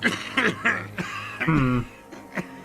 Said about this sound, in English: His hands shake, and he breaks into a coughing fit.